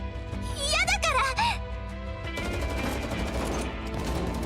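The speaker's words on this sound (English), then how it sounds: "Gunshots ring out outside the door" Gunfire in the video game Girls' Frontline 2, with rapid clattering shots that follow a short voiced passage and continue as dense bursts over background music.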